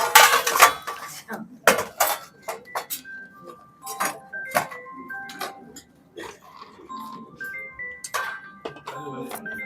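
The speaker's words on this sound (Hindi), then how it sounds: "प्लेटें और ये सब ना मेरे को पैक कर दो।" Plates, pots and cutlery clink and clatter repeatedly as crockery is packed up at a communal bhandara meal in Delhi's Bihari Colony, with sharp bright knocks scattered through nearby conversation.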